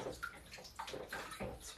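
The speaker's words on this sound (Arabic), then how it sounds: "وابتدي اشطف ايدي من الماسك" Running water splashes over hands while a face mask is rinsed off, a steady close wash with irregular splashes and trickles throughout, with no talking.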